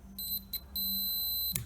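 Continuity-test beep from a Beckman Industrial multimeter: a steady electronic tone, sounding in a couple of short chirps and then one sustained beep of about three-quarters of a second, close and clear over a faint hum.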